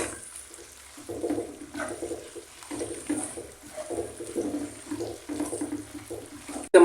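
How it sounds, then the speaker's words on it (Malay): Plain water poured into a cooking sauce with shiitake mushrooms, a continuous splashing, gurgling flow lasting several seconds, with a sharp clatter at the very end. "Masukkan air, plain water around 4 cup, dalam 4 cup macam tu lah."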